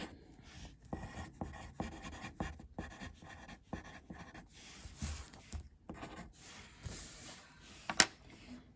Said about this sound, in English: So you can go and write your name in.